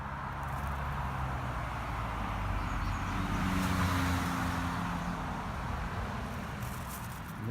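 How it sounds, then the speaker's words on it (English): Steady roadway traffic noise outdoors beside a honeysuckle patch, a continuous broadband rumble of passing cars that swells slightly near the middle, no talking. "I'm really sorry for the road noise."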